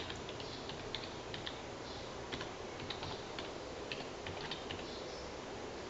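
A username and password are typed on a computer keyboard in a quick, irregular run of light key clicks, close and fairly quiet, with no talking.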